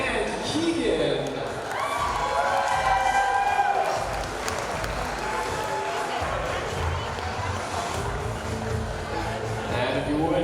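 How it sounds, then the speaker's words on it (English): Wedding guests clap and cheer steadily throughout, a dense wash of applause with scattered whoops and a murmur of voices underneath. "give a big round of applause for Jesse and Karis."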